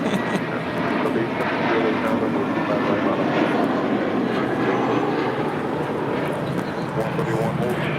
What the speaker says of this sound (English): This is JetBlue Airways Flight 131 coming in from not New York, but Orlando on this A320